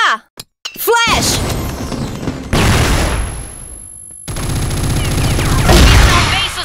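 Grenade and flashbang blasts in the online shooter CrossFire, loud close bursts with crackling debris and a sharp high ringing tone, broken by brief silences, with shouted voice lines and game noise around them.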